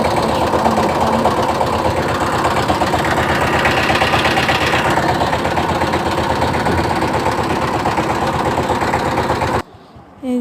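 A crowded wooden river ferry's engine chugs loudly and continuously in a fast, steady rhythm close by, then cuts off abruptly at the very end.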